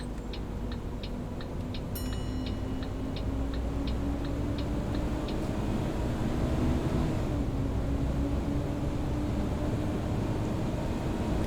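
A steady low engine drone from a B7TL bus in OMSI 2 rumbles throughout, with a rapid series of light ticking clicks near the start.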